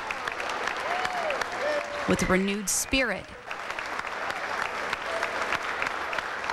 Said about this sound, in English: a standing ovation from the community, applauding the veterans who answered the call to save the world